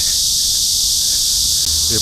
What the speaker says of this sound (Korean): 와, 매미